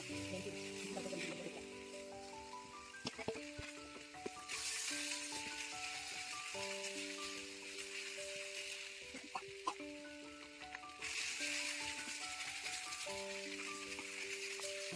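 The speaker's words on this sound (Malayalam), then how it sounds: "ഇവയെല്ലാം വഴഞ്ഞതിന് ശേഷം വേവിച്ച് വെച്ച ഇറച്ചി ഇതിൽ മിക്സ് ചെയ്ത് ഇളക്കുക" Cooked beef being stirred and sautéed with spices including garam masala in a pan, giving a steady close sizzle with scraping stirs and clinks throughout.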